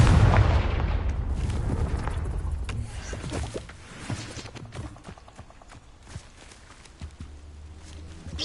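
A Confringo fire spell bursts in Hogwarts Legacy with a loud, broad blast at the start, then a long crackling, rumbling tail that fades into scattered small pops and impacts.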